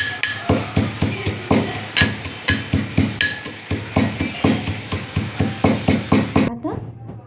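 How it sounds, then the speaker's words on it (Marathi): Cumin, coriander and fennel seeds for a mini samosa filling being ground together, heard as a steady run of sharp, evenly spaced pounding knocks, close and loud, that stop abruptly near the end. "आता वाटून घेत आहे हे तीन मिश्रण।"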